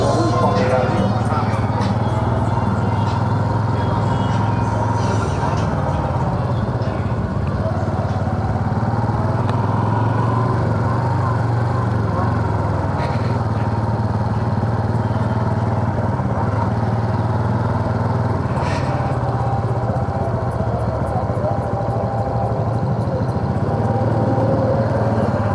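A Honda Super Cub motorcycle being ridden along a driveway, its small engine droning steadily and loudly throughout with wind noise, while someone talks over it.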